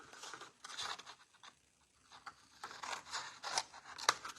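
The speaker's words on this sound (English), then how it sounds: "Okay, I'm going to cut this one in half." Scissors snip through card stock to cut it in half: a run of quiet, crisp cutting strokes with a brief pause midway, ending in a sharper final snip. Close and faint.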